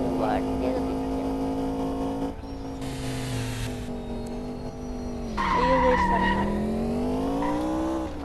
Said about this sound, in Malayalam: നമുക്ക് വണ്ടിയൊക്കെ തിരിക്കാം.